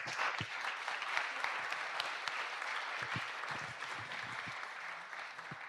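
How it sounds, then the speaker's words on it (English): Audience applause at a tech policy conference after a panel of speakers, steady sustained clapping from a crowd filling the room, moderately loud throughout with no talk. "Please, a round of applause for our great speakers."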